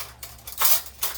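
A small metal spoon clinks and scrapes against a dish while making cheesy scalloped potatoes and ham, a few brief close taps over about a second with no talk.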